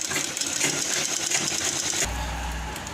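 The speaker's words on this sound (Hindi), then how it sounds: "ये वाली मैं इस पर सिलाई चलाऊँगी" A sewing machine stitches the lining of a blouse with a steady, close mechanical whirr. A deeper motor hum joins in the final second.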